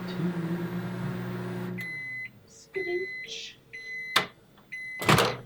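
A microwave oven hums steadily, then stops and gives a series of evenly spaced electronic beeps, with a few short sounds between them.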